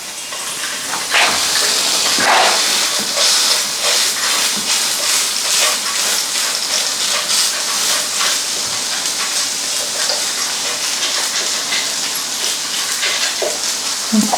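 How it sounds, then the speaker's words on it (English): Flattened patties fry over medium heat in a pan, giving a loud, steady, close-up hiss and sizzle that runs unbroken with small crackles throughout. "fry those over a medium heat for a few minutes"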